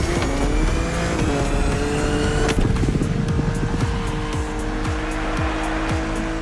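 A BMW Z4 GT3 race car in The Crew Motorfest, its engine droning and shifting pitch up close while the tires squeal and skid through a corner.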